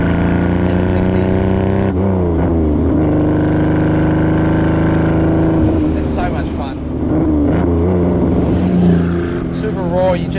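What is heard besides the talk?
Ferrari 250 GT Berlinetta Lusso engine and exhaust while driving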